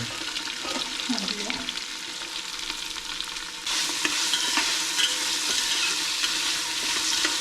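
Sliced onions and chopped green chilies fry in ghee masala for a meat rice dish, a steady close sizzle that jumps louder and brighter partway through, with stirring underneath.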